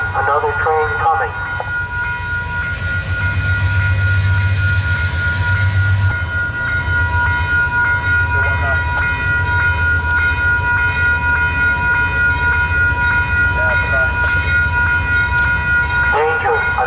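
A train rumbles past at close range with a heavy low roar, and a horn sounds steady tones above it. A recorded warning voice repeats over the passing cars throughout.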